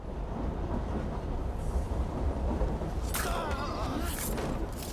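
A steam-era locomotive rumbles through a factory yard in Assassin's Creed Syndicate, a continuous heavy rolling drone that turns into bright metallic screeching and squealing partway through.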